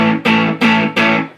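Electric guitar through an amp pushed into overdrive, three loud distorted chords struck in a row, each ringing and fading before the next.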